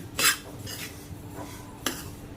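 Roasted sesame seeds being stirred with coarsely crushed roasted peanuts in a kadhai, two crisp metallic scrapes of a spoon against the pan with a soft rustle in between.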